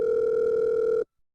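A telephone dial tone from an animated cartoon sounds as a single steady, clear hum for about a second, then cuts off into silence.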